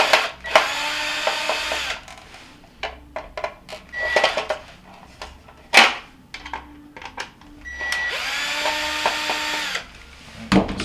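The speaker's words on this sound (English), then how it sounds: "Go ahead and take out my screw." Phillips screws are backed out of a control cover inside a Whirlpool refrigerator, heard as a close, bursty whir of a powered screwdriver in two longer runs with sharp clicks and clinks of metal between them.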